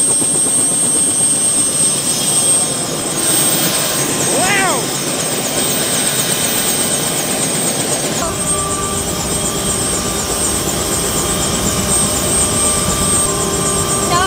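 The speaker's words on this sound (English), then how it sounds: "Y'all see that helicopter? We're about to go on it." A helicopter runs loud and steady nearby, its rotor thudding continuously beneath a high engine whine throughout, with a pitch-sweeping pass partway through; people talk over it.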